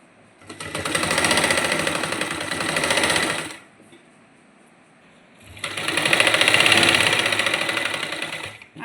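A sewing machine stitches a salwar seam with lace in two long, loud, steady runs of rapid mechanical clatter, separated by a short quiet pause, close up with no talk.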